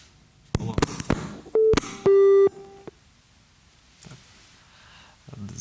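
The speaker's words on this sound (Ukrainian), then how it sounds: "зірвався телефонний дзвінок" Telephone busy signal after a dropped call on a radio phone-in line: a few clicks, then repeated steady beeping tones in short bursts, followed by quiet room noise with faint breathing.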